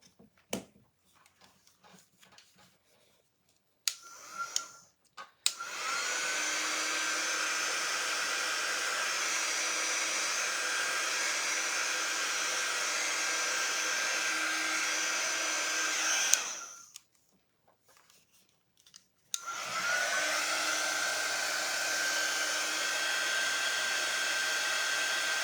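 A hair dryer blows steadily on a cowboy boot, a loud close whooshing drone that runs for about eleven seconds, cuts off briefly, then starts again and continues to the end, with handling clicks before the first run.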